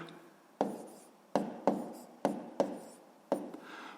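Pen or pencil strokes on paper as decimal numbers are written out by hand for a fifth-grade math exercise, heard as about six short, close, quiet scratching bursts in an uneven rhythm with no talking.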